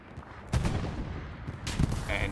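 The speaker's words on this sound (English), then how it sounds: "And there goes the anti-tank gun. Kazan taking it out with a nice shot." An anti-tank gun fires in a tank battle video game, producing two loud, close booming shots with noisy tails, the second followed by a short tonal in-game sound.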